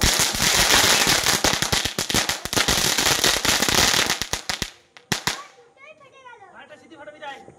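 Diwali firecrackers burst in a dense string of loud, sharp cracks and pops for several seconds, then a few scattered bangs, while excited voices shout and chatter nearby.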